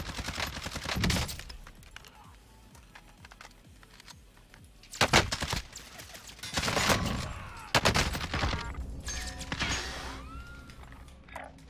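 Gunfire rings out in Call of Duty Warzone gameplay, sharp bursts and volleys of shots in separate clusters with quieter gaps between, fairly close and loud.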